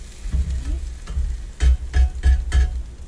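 An egg fries in a pan for a breakfast sandwich, a close steady sizzle broken by several soft thumps and scraping bursts as it is moved and flipped, with no voices.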